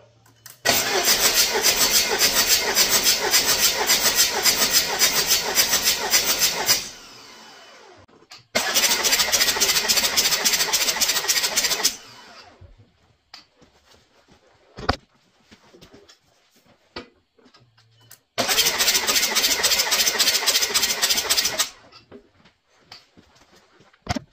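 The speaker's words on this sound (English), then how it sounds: "Let's crank it over, and let's see what kind of compression numbers we get on cylinder one" A Tacoma fitted with a TDI diesel engine cranks over repeatedly during a compression test on cylinder one, with three loud, sustained bursts of fast rhythmic starter churning separated by quiet gaps holding faint clicks.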